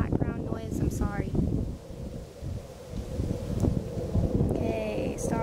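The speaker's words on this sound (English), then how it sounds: "if you hear the wind and the background noise, I'm sorry" Gusty wind buffets the microphone in low rumbling bursts, with a few brief voice fragments breaking through.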